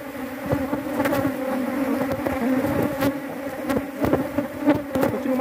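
Angry honeybees buzz loudly and continuously while being moved from a bait box into a standard hive box, a dense droning hum with individual bees zipping close past in sharp, passing whines.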